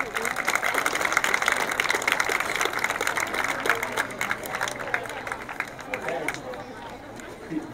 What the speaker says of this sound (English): Parents, let's give them a round of applause as they head out